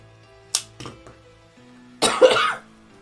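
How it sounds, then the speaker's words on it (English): A couple of short coughs, then a louder, harsher cough-like burst, close by in a quiet room. "Coughing again."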